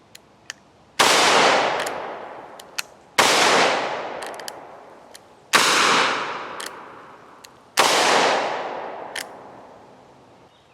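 Four sharp, loud gunshots from a Thunderstruck Gen 3 22 Mag double-barrel revolver ring out about two seconds apart, each followed by a fading echo tail, with small clicks and handling noises between shots.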